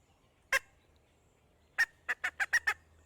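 Soft little squeaks from a hand-held squirrel call: one isolated chirp, a pause, then a quick run of five or six tiny chirps, close and quiet.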